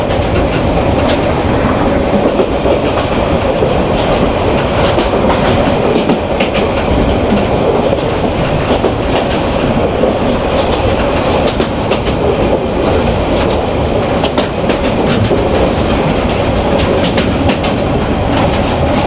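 The Saikat Express train from Chattogram to Cox's Bazar rushes along at speed, a loud steady roar of wheels and carriages with rhythmic clattering over the rails, heard from onboard throughout.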